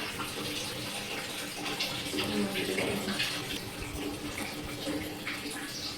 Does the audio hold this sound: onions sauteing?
no